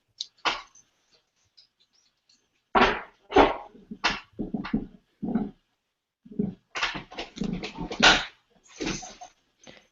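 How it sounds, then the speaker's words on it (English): A teething puppy gives intermittent short yelps and whimpers in scattered bursts, close and moderately loud, with quiet gaps between them. "Is your dog okay?"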